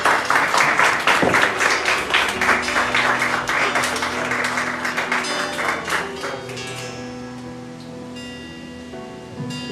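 A church congregation applauds at a Spanish-language sermon on the rapture, a dense steady wash of many hands clapping that fills the room, gradually thinning and fading while organ or keyboard tones sustain underneath.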